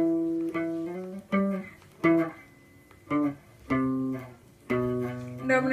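An electric guitar plays a riff, a run of about nine clear, separately picked notes with short gaps between them, close and alone with no talking.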